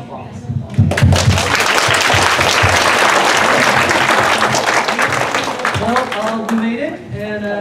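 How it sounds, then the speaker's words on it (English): A graduating class of massage therapy students gives their teacher a round of applause, a loud, dense burst of clapping that starts suddenly and holds steady before thinning out, with a voice at the end. "I would like to ask the class to join me to give the teacher a round of applause."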